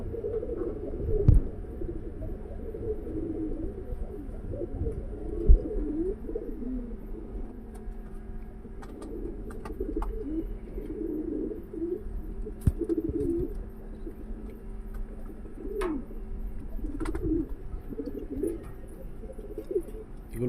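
Pigeons in a loft coo in overlapping low phrases, a steady murmur of calls close by, broken by occasional sharp knocks and rustles.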